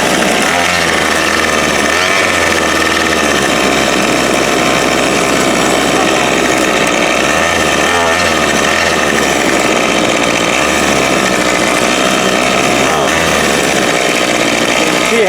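A 2016 Murray M2510 25cc gas string trimmer runs loud and close after carburetor retuning, its engine droning steadily with slight surges as the throttle is pressed, sluggish at first.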